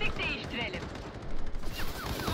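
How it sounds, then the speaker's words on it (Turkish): Gunfire in the online shooter Battle Teams 2, a rapid burst of shots at moderate distance mixed with game noise, while someone talks over it. "Aha, aha biri biri sıkıyor."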